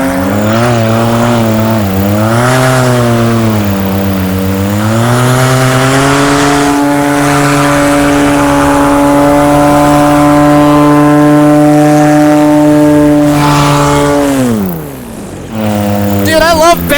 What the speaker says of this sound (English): the engine's not running perfectly amazing, but it's not running awful